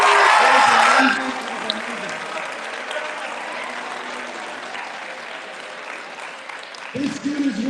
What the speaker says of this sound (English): let's give a huge round of applause to Coach K.